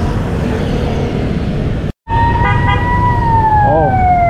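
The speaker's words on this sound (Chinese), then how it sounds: "哦，越南救护车，" An ambulance siren sounds in street traffic in Ho Chi Minh City, Vietnam. After a brief dropout, a loud wailing tone rises over the rumble of nearby vehicles.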